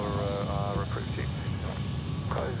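A plane takes off from runway 16 Right at Sydney Airport, a steady low engine rumble that continues through the whole moment while people talk over it.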